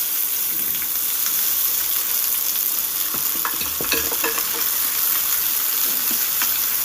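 Chopped garlic and onion frying in oil with black cumin for a bitter gourd dish, a loud, steady, close sizzle with occasional stirring scrapes over nearly seven seconds, no speech.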